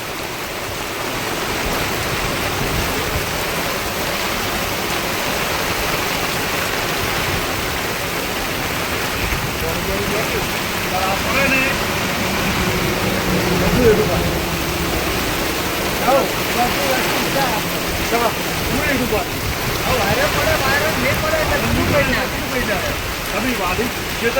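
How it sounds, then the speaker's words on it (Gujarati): Heavy rain on a highway near Shihori makes a dense, continuous roar of downpour that stays loud and unbroken throughout, with no clear speech over it. "ફૂલ વરસાદ મિત્રો પડી રહ્યો છે"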